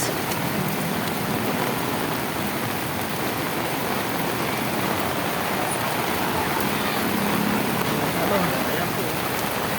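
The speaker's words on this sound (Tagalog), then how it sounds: "Sobrang lakas na ng ulan." Heavy typhoon rain pours by the Tullahan River in a dense, constant hiss, with passing traffic underneath and a few brief voices.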